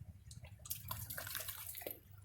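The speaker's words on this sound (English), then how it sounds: "I turned around to be panning with the flow of the water." Water flowing steadily around a gold pan while panning outdoors with shovel and sluice, a continuous soft rushing and splashing at close range with no talk.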